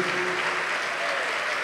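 A church congregation bursts into dense, continuous applause during a televised worship program, a thick wash of many hands clapping at once with a faint voice beneath.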